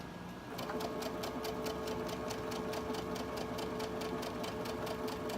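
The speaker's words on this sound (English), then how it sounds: "I'm just chain stitching down one side" Close, steady sewing machine run chain stitching fabric for a barn quilt block, a fast even needle clatter over a constant motor hum, continuing without pause for the whole stretch.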